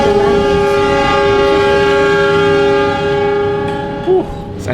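The Ciremai passenger train from Bandung to Semarang runs with a loud, sustained tonal horn blast and a steady rumble of rail cars underneath, heard from on board, with a brief squeak near the end.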